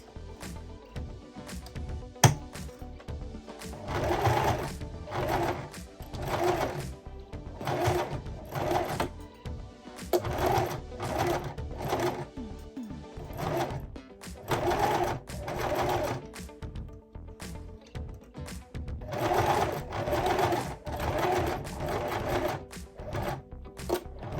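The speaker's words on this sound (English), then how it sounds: "Just gonna sew it here in the middle" Sewing machine stitching a wig ponytail made from a recycled Brazilian hair wig, running in short rhythmic bursts with pauses between them, close and clear with no talking.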